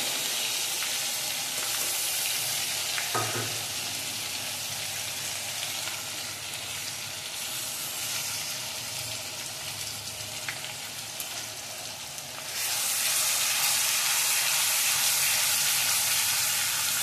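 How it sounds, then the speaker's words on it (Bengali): Onion paste with ginger and garlic paste fries in hot oil for a Bengali tengra fish curry, producing a steady close sizzle throughout that grows louder near the end. "আদা রসুন আর পেঁয়াজটাকে আমি ভালো করে ভাজা ভাজা করার চেষ্টা করব।"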